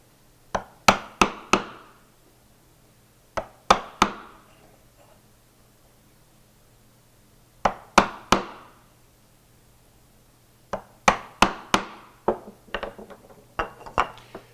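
A mallet drives a chisel into wood to cut a mortise, end grain first and then long grain more gently. The blows are loud, sharp and close, coming in quick clusters of two to four with short silent gaps between.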